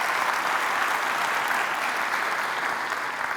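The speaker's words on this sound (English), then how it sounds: "Round of applause, 50 years, that's amazing." A conference audience at a keynote talk breaks into a loud, sustained round of applause, dense clapping holding steady throughout with no speech on top.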